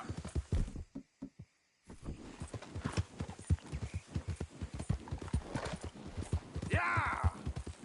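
Horse hooves clip-clopping in Red Dead Redemption 2, a steady, close rhythmic beat of hoof strikes at walking pace with a short silent break near the start.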